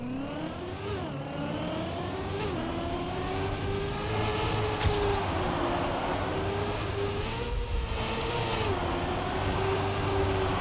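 A racing car engine in the video game Trackmania whines steadily at high revs, pitch rising and dipping with gear shifts, loud and continuous with no voices.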